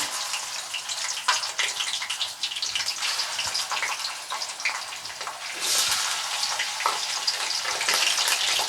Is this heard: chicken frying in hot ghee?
yes